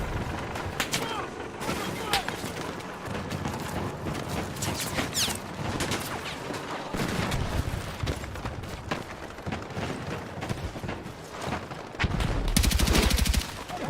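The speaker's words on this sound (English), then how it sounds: "This guy just using rockets." Explosions and gunfire roar through a Battlefield 6 match as rockets are fired, a dense continuous barrage of blasts and shots with a heavy burst near the end, with voices talking now and then.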